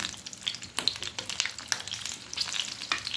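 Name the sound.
green chillies frying and spattering in hot oil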